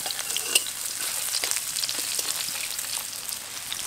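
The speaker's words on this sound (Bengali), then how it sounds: "পেঁয়াজটাকে একদম হালকা বাদামি করে ভেজে নেব।" Chopped onion frying in well-heated oil in a wok, a steady close sizzle with crackling pops throughout and occasional stirring scrapes.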